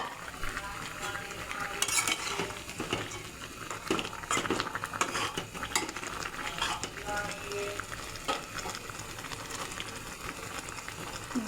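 Fried hilsa pieces and tomato go into a boiling curry with steady stirring, light sizzling and the clink of utensils against a pot throughout, some talk in the background.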